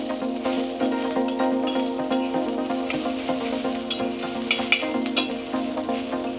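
About four large onions fry for a spicy mutton paya curry, giving a steady close sizzle with scattered crackles and light clinks of stirring throughout, and no one speaks.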